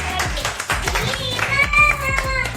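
Hands clapping in a fast, steady patter, mixed with music and a few voices, fairly close, at a family Raksha Bandhan celebration before a dance.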